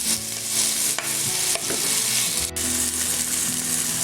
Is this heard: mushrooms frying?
yes